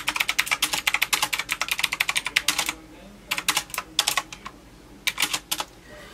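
Rapid clicky keystrokes on a Pnk Stuff computer keyboard come in close, crisp bursts separated by brief pauses, with no voices.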